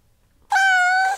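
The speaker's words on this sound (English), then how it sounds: "the cat meows." A single cat meow, loud and close, one sustained tonal cry lasting under a second after near silence, with no talking around it.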